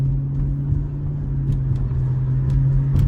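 A Hemi Chrysler 300C engine drives through traffic as a steady low rumble and hum, with faint higher ticks and clicks over it and no voices.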